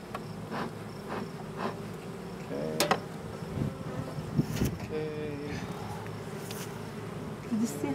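Honey bees buzzing around an open hive during an inspection, a soft, continuous hum with brief sharper sounds and occasional quiet talk nearby.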